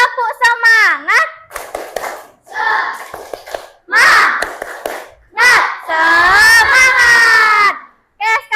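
Children chant and clap the 'tepuk semangat' rhythm together in a primary-school classroom, bursts of claps mixed with loud young voices shouting in unison, repeated in several short rounds with brief pauses between.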